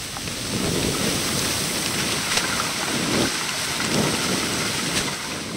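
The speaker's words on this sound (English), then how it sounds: "Now I have to do rain." Foley rain for an animated short, made with a plastic bag: a steady, dense patter of rain alone and up close, swelling in soft waves with a few sharper spatters and no voices.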